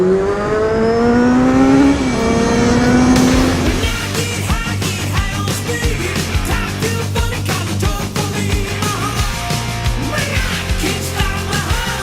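A motorcycle engine revs and pulls while riding, rising in pitch through the gears before settling into a loud, steady drone with wind buffeting, no speech.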